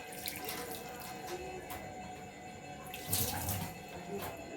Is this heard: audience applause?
no